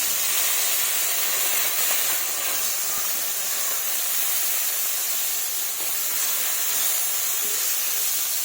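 Small fish such as baliya, puti and koi sizzle in hot mustard oil in a wok, a loud continuous frying hiss that holds steady throughout with no talk.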